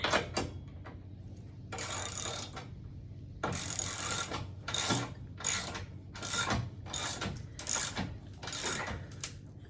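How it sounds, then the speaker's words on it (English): Ratchet wrench tightening a nut onto a carriage bolt in a 1972 Shasta camper floor, with rapid clicking strokes in bursts separated by short pauses, close and clear with no talking. "Take my ratchet."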